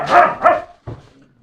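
A dog gives two loud, close barks in quick succession, then a softer, shorter yip after a brief gap.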